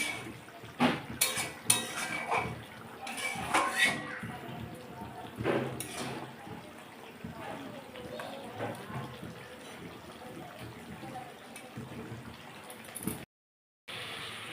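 Mutton being stirred and sautéed in a pot for Bengali mutton kosha makes irregular metallic clinks and scrapes of a spoon against the pot. The clinks come with soft sizzling, close and fairly quiet.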